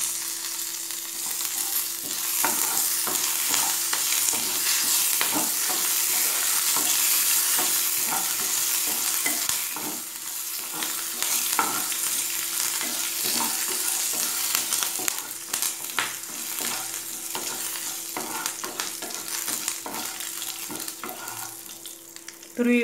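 Curry leaves are stirred in a hot pan for coconut rice: a continuous close sizzle with repeated scraping strokes of the spoon, loudest early and easing slightly toward the end, with no one talking.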